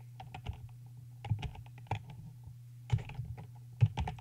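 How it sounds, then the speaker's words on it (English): Volume keys on a computer keyboard pressed a few times, giving sharp close clicks at irregular intervals over a steady low hum, with no talking. "If I just press the volume keys"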